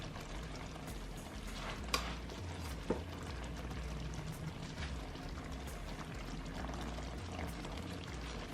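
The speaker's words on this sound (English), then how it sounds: "So pour this over your chicken." Creamy Tuscan sauce is poured and settles over chicken in a pan, a quiet steady sizzle and gurgle with two brief clinks partway through.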